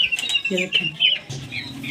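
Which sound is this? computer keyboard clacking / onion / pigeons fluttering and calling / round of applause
pigeons fluttering and calling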